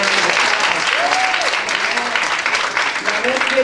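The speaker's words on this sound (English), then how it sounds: "Now let's give God a bigger hand clap." A church congregation applauds with loud, dense clapping throughout the short clip. Brief voices and cheers rise over the clapping.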